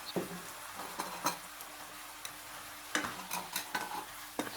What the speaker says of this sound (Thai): แล้วก็เริ่มผัดทุกอย่างให้ละลายให้เข้ากันให้หมดเลยนะครับ